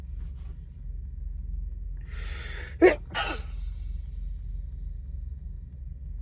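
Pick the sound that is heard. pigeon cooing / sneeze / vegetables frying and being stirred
sneeze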